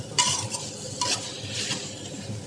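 Food fries in a noisy saucepan while being stirred, with a soft sizzle under a few quick scraping and clinking strokes of a utensil against the metal, close and fairly quiet.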